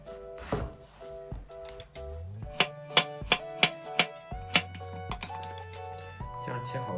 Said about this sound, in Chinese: 然后将冬瓜切片儿